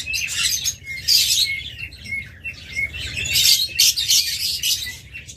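Lutino Fischer's lovebirds, including a double factor lutino opaline, chirping in bursts of shrill, high tweets and squawks, close and loud, over a low background rumble.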